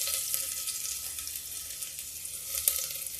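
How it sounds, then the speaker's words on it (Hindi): Garlic dropped into hot oil in a home kitchen fries with a steady, close sizzle, holding at a moderate level throughout with a brief louder crackle near the end and no talk. "देखिए तेल गर्म हो गया मेरा। ये देखिए, ये मैं डालूंगी सबसे पहले लहसुन।"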